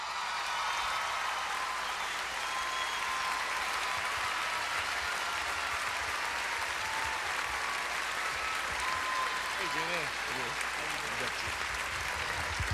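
Sustained, dense applause from a large audience at the Grand Ole Opry welcoming a country singer, steady and loud throughout, with cheers and a voice rising briefly near the end.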